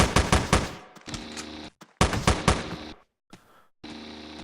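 Pistol and shotgun fire in the video game Teleglitch: rapid bursts of loud, punchy shots in quick clusters, broken by short silences and sparser single blasts.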